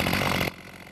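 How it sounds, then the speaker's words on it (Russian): Chainsaw cutting timber during tree felling in a forest, a loud steady buzzing engine drone for about half a second before cutting off abruptly, leaving only a faint hum. "С бензопилой и на каблуках Ольга Ведерникова уже давно разрушила стереотип"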